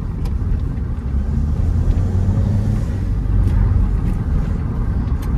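A Nissan Primera P12 gathers speed gently, its engine giving a steady, fairly loud low hum with a slight rise in pitch and continuous road noise beneath, no voices.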